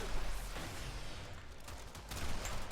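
Gunfire and explosive weapon blasts from the shooter game Warframe form a continuous, muffled roar, loud and sustained with slight surges near the start and end, and no talking.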